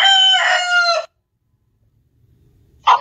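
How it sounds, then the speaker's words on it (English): A rooster crows once, loud and close, in a harmonic cock-a-doodle call lasting about a second, followed by silence and the start of a second call at the end. "Chicken."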